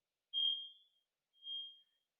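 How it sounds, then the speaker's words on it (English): A fire alarm sounding during a test: two clean, high-pitched electronic beeps, the first slightly louder and longer, separated by a short silence, heard alone at moderate distance. "we're going to be dealing with, for the rest of this video, the fire alarm going off"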